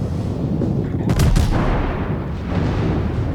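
Battleship main guns firing in a naval combat video game, a loud burst of heavy booming shots around the middle over a steady rumbling background.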